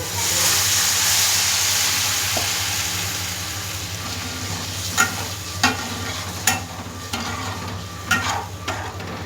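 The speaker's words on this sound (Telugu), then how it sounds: "దీంట్లో చింతపండు పులుసు పోసేద్దాం" Tamarind extract hits a hot pan of chili-spiced okra, giving a steady loud sizzle and hiss, followed by a few sharp scrapes and clinks of stirring with no voices.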